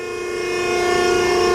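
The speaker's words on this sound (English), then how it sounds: "Most of the noise you hear is the hydraulic unit." The hydraulic unit of a Landis universal cylindrical grinder runs alongside the spinning grinding wheel, giving a steady, loud tonal whine and hum that swells slightly at first, close by and without talk.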